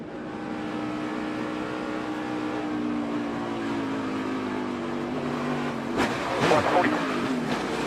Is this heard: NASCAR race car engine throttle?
yes